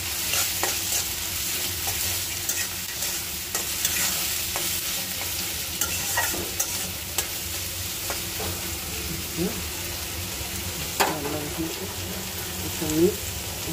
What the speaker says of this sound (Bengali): এই জন্য আমি সব মশলা ভেজে নিতেছি